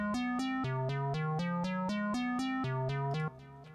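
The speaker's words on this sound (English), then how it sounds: "what it's done is it's put a ladder of ascending notes like that, which sounds like this" About a dozen short synthesized notes programmed in Cubase SX play in a steady, evenly spaced sequence, each a clean tone stepping in pitch, with no voices.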